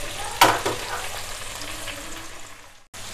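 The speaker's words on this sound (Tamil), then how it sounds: "இப்போ வந்து இது அப்படியே வதக்கிக்கிட்டு இருக்கட்டும்" Ingredients sauté in a pan for a South Indian home-style dish, giving a steady broadband sizzle with a sharp clatter of stirring near the start, before the sound cuts out briefly at the end.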